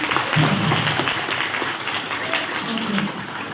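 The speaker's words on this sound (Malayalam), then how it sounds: "സുഹാൻ വലിയൊരു ക്ലാപ്പ് എടുത്തേ എല്ലാവരും" Students at a school mohiniyattam programme give Suhan a round of applause, a dense, continuous clapping that fills the room while a voice talks over it.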